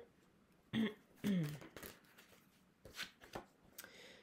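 Tarot cards shuffled for a reading, with a few quick riffling bursts and soft card slaps coming in uneven clusters, close and moderately loud, plus a brief throat-clearing-like vocal sound near the start.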